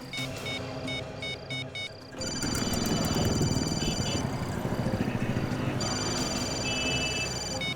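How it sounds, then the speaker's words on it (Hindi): A mobile phone ringtone chirping in repeated electronic bursts from somewhere nearby, first in short pulses, then longer sustained tones over a busy background hum of street traffic. "फोन की घंटी अंदर ही बज रही।"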